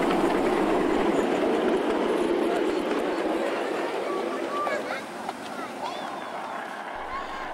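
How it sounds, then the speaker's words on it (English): Sweet William, a 7¼-inch narrow gauge miniature steam locomotive, runs at the head of a procession at a model railway event, a faint, continuous rolling rumble with light rhythmic clatter and background noise. "lead engine in the opening procession was a 7¼-inch narrow gauge Sweet William loco, owned by Dave Pierce."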